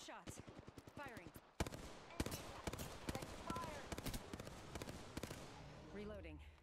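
Gunfire in the video game Apex Legends: rapid automatic bursts and single sharp shots crackle loudly and almost continuously, with a voice talking over parts of the action.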